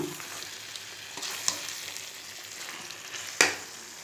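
Spicy chicken curry fries in a pan with a soft, steady sizzle and occasional sharp clinks of a utensil against the pan, fairly quiet and without talk.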